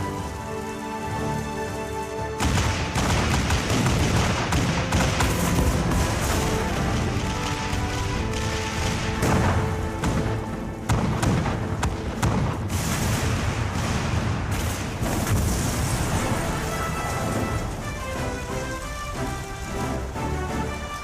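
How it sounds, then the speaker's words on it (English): Dense, continuous barrage of booming cannon fire and explosions in Final Fantasy XIV: Stormblood, layered with a steady battle din and music, loud throughout with a few sharper bursts. "All cannons resume firing!"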